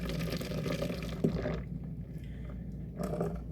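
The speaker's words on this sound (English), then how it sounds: "I'm gonna go ahead and fill this up to the 2 cups line and add about 2 more cups of water into this" Water is poured into a measuring container up to the two-cup line while preparing a creamy melon aqua fresca, a close splashing, trickling fill that briefly pauses before resuming.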